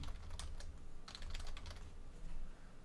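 A computer keyboard clicks and clatters in two quick bursts of typing as a search phrase is entered, close and soft, with a short pause between them and no talking.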